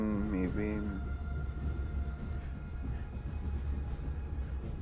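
A train in the video game Grunnd rumbles in a low continuous roar with a steady rolling rattle, while a voice talks briefly over it at the start.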